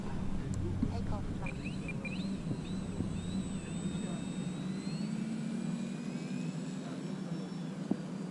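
Carbon Cub S2 radio-controlled model airplane taking off, a thin whining motor note rising and shifting in pitch at a moderate distance, under outdoor background noise.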